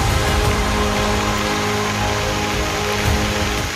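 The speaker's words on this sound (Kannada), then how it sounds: "ಚಿಕ್ಕಮಗಳೂರಲ್ಲಿ ರಣ ಭೀಕರ ಮಳೆ ಕಾಟ." Heavy monsoon rain pours down in Chikkamagaluru, Karnataka, a loud, dense and unbroken hiss of water striking surfaces close by, steady for the whole stretch with no voices.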